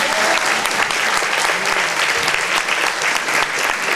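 Audience at the Miss Cristal 2012 beauty pageant applauding the candidates, a dense, loud, sustained wash of clapping that fills the whole stretch without a break.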